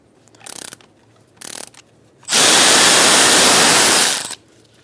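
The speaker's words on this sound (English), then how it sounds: "Using a 15mm socket, you're going to take out the caliper bolts." A 15mm socket on a ratchet loosens front caliper bolts on a 1998-2011 Ford Ranger: two short ratcheting bursts, then a loud, sustained whir of about two seconds, with no talk.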